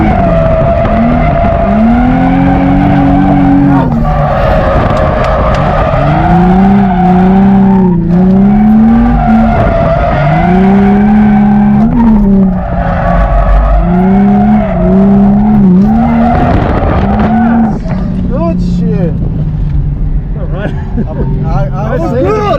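Nissan G35 drifting, its engine roaring at high revs while the tires squeal and skid in long, wavering rises and falls, loud and sustained, with people talking over it.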